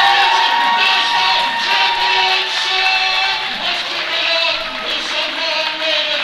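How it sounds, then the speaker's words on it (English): A powerlifting meet crowd cheers, whoops and applauds in a loud, sustained roar that fills an indoor venue and swells and eases slightly without a break. "give me a big round of applause"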